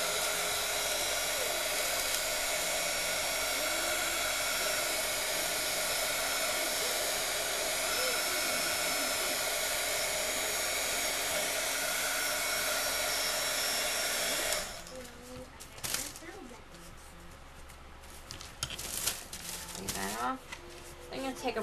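Heat tool blowing a steady, loud broadband whoosh to heat-set Glimmer Mist in paper crafting, running continuously for about fourteen seconds before switching off, followed by quieter handling noises.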